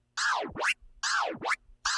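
A DJ performs slice scratches on a turntable record with the crossfader, sharp swooping whooshes rising and falling in pitch, three quick chopped strokes in rapid rhythm, close and fairly quiet.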